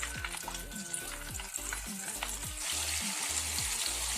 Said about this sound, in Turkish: ciğerlerimizi bol yağda bu şekilde karıştırarak kızartıyorum.